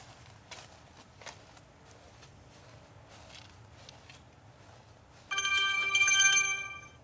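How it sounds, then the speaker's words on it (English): Phone notification from a Reolink security camera app: a bright, loud electronic alert chime plays near the end for about a second and a half, following a quiet stretch with faint taps and shuffling. "Okay, I got a notification."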